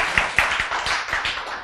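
A handful of distinct claps from an audience at a lecture, spaced irregularly over under two seconds, close and fairly sharp against a quiet room.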